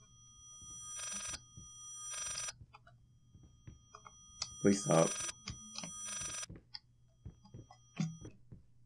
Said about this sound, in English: There's some kind of phone around here somewhere.